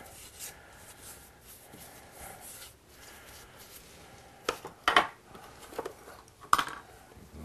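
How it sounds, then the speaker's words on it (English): Rag wiped over freshly sanded wood to clear dust and grit, giving soft rubbing swishes followed by a few sharper scuffs and knocks close by, with no speech. "Clean all that dust off and all the grit."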